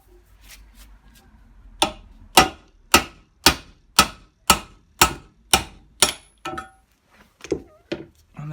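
A socket wrench ratchets on the bearing bolts of a Bosch washing machine: a quiet stretch, then about a dozen sharp, evenly spaced clicks, loud and close, thinning out toward the end.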